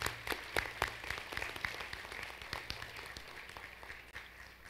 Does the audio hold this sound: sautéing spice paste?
no